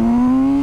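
A Kawasaki Z900 RS motorcycle engine takes a quick blip of throttle, a loud, close, steady engine note that rises slightly in pitch over less than a second.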